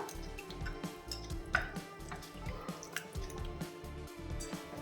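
Wheat flour dosa batter mixed by hand, a close, continuous wet squishing and dripping with rhythmic squelches as the hand works through the batter.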